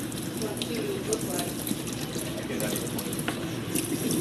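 Running tap water used for washing, a steady close trickle and splash into a sink throughout, with voices talking over it.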